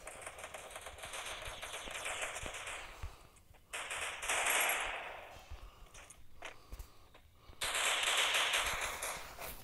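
Rapid gunfire bursts from pistols and automatic weapons during an intense firefight in a video game, loud and dense in several long volleys separated by brief pauses, with no talking.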